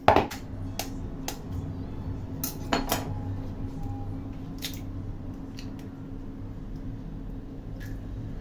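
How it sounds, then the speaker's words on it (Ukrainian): An egg cracked on a glass of kefir, with a sharp tap at the start followed by scattered clinks and clatter of kitchen utensils against glass, close and fairly quiet, no talking. "Необхідно вбити одне яйце."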